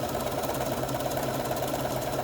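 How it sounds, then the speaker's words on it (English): A sewing machine runs steadily while stitching a quarter-inch seam on a quilt block, giving a continuous mechanical hum with a fast, even needle rhythm and no talk. "And we're going to sew this down, 1/4 inch seam again. And we're going to start stitching"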